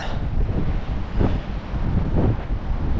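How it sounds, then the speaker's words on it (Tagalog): Strong cold wind on a boat batters the microphone in loud low rumbling gusts, swelling twice over a constant roar with no voices. "Ang lakas po ng hangin doon sa taas."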